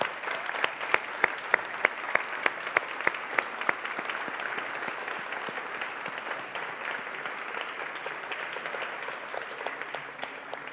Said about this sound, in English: all the applause is just for you right now.